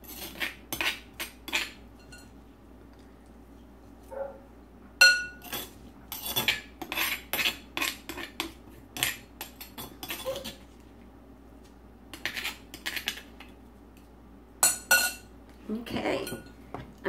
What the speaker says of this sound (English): I'm going to go ahead and clean it out and putting its contents into a big bowl.